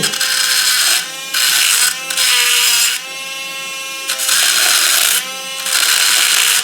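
A Dremel-style rotary tool fitted with a grinding stone grinds metal on a die-cast toy being restored, its loud high-pitched whine starting and stopping in repeated bursts with brief pauses between them.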